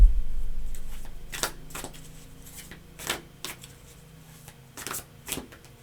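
Tarot cards are shuffled by hand in several quick riffling bursts with short pauses between them, close and fairly clear over a quiet room.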